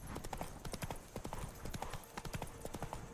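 Hoofbeats of Roach, the horse in The Witcher 3, clip-clopping in a steady rhythm at close range, with faint game ambience under the steps and no talk.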